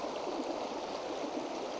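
A river flows with a soft, steady, even rush of water, faint and continuous, with no voices.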